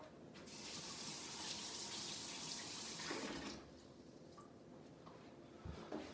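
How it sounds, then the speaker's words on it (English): Vegetables are rinsed under a running kitchen tap, with steady gushing water for about three seconds before it stops, leaving faint handling clatter and a soft knock near the end. "So I'm going to go give them a quick wash right now."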